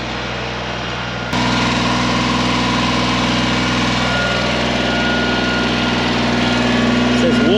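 A steady, rumbling tractor engine idles close by in a yard, beginning with a sudden jump in loudness and holding a constant low drone throughout.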